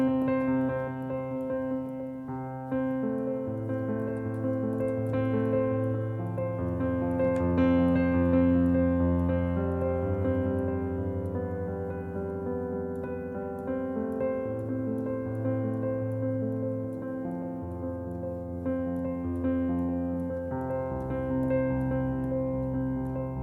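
Piano arpeggio played with only the thumb and pinky, a gentle rolling pattern of sustained notes repeating steadily and close, alone without any voices.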